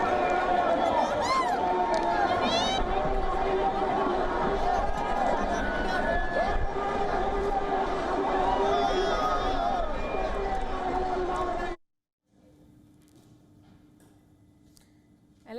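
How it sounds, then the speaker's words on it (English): A massive crowd of protesters storms Sri Lanka's presidential palace and secretariat, a dense roar of voices, shouts and chatter filling most of the scene before cutting abruptly to near silence with a faint low hum. "A massive crowd stormed Sri Lanka's presidential palace and the secretariat."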